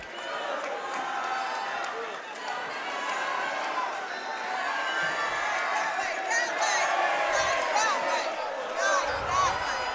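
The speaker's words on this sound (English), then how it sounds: "Exciting crowd." A crowd cheers and shouts at the close of a high school sectional final wrestling match between Clifton and PCTI, a sustained roar of voices and whoops throughout that rises slightly toward the end.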